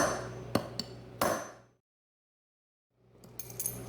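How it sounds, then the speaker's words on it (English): Metal hammer striking a vehicle spindle in a garage repair, three sharp clanging impacts close by, followed by a silent gap and then scraping, rattling tool noise. "I got my hammer. Let's get her done."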